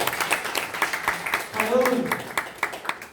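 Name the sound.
congregation applause and clapping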